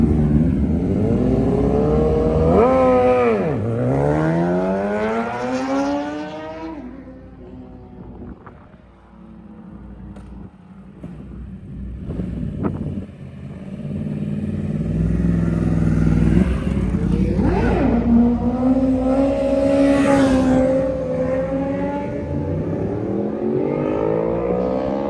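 Several motorcycles rev and pass by, engine pitch sweeping up and down as they approach and pull away, loud and close, with a quieter lull in the middle before more bikes roar through.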